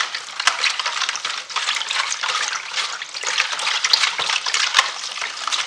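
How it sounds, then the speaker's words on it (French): Stirring a Turkish bourek filling mixture in a bowl, a continuous wet, crackly scraping and squelching that holds steady throughout, close and fairly loud, with no talk. "Je mélange encore"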